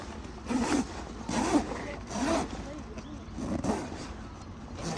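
Zipper being pulled shut along the seam of an inflatable 3x3 basketball court, heard as several rasping strokes in a steady rhythm, close and moderately loud, with no talk over it.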